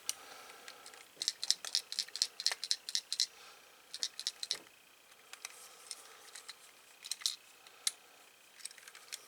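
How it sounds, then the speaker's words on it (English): A small ball bearing rattles loosely inside a gift box, giving bursts of quick, bright clicking taps as the box is shaken, with brief pauses between rounds. "Just want to see what I can hear rattling around in there."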